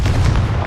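Confringo fire spell explosion in Hogwarts Legacy, a short, loud, deep boom with heavy low rumble lasting under a second.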